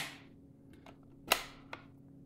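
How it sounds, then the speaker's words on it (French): A Savage 220 20-gauge bolt-action shotgun, fresh out of the box, has its bolt cycled: a few sharp metallic clicks and one louder clack, close and isolated against quiet room tone. "La bolt très smooth."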